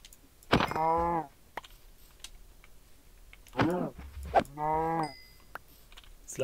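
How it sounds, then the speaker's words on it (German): Two close Minecraft cow moos, the second one split into two parts, with a few faint game clicks in the pauses between them. "Ah, schau an, da ist noch eine Kuh."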